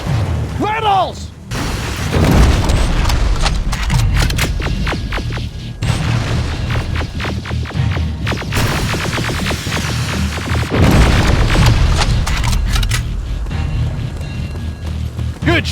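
Gunfire and heavy explosions fill a firefight in the Terminator Resistance video game, with dense bursts of rapid shots and deep booms crashing continuously, loud and close, while shouted voices cut in over the battle.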